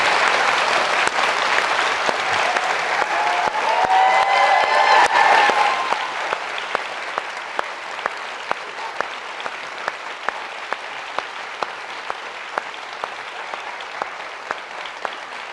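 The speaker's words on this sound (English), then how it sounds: "Well, a round of applause for that." An audience at a Georgetown Law School lecture bursts into dense, loud applause that swells for several seconds, then thins into scattered individual claps that fade slowly.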